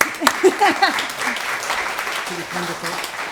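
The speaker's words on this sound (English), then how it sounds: "Everyone's in an applauding spirit, so let's stay with that." Applause from the audience at a 30th anniversary prize ceremony, a moderate, steady patter of clapping with some voices briefly audible over it.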